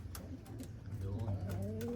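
Pigeons coo softly in a low, throaty rolling rhythm at close range, with faint scattered chirps and light background noise and a person speaking among them.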